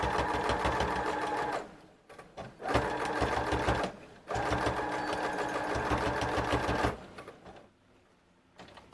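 Sewing machine running loud and close while stitching a swirl pattern into a Christmas junk journal, in three long steady whirring runs separated by brief stops.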